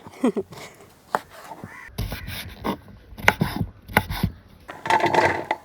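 A knife chops raw green mango on a cutting board for a Kerala-style dish, sharp uneven knocks and scraping taps in quick clusters, close and fairly quiet, with a bit of background noise and brief murmured speech.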